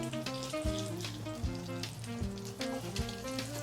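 Food sizzles and crackles steadily in a hot frying pan, low and continuous beneath a musical backing.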